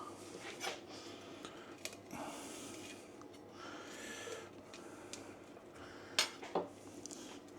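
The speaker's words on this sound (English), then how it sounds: "Mash it all together." Sweet jacket potato mashed in a dish, soft clinks and scrapes of cutlery against crockery coming in scattered bursts, faint and close, with a couple of sharper taps near the end.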